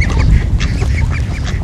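Several domesticated ducks quack repeatedly at a city park, close and fairly loud over a dense, steady background of other birds and outdoor ambience.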